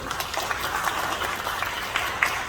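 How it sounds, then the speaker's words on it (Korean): An audience at a Presbyterian church gathering in Korea applauds an honored guest, with steady, fairly close clapping from many hands and a few sharper claps standing out, without pause. "감사합니 박수 한번 보내주시죠"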